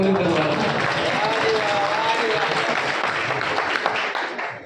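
Sustained audience applause fills a Hindi prayer song performance, dense steady clapping running throughout over faint lingering sung tones, tapering slightly at the end.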